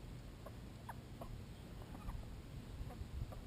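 Chickens cluck in short, scattered bursts at a modest distance, pecking around a homemade treat dispenser loaded with grubs, with steady background hum and no talking.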